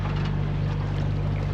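Sailboat motoring under its engine in light wind on the Spanish coast, a steady low drone with constant hull and water rush, close and continuous, no talk.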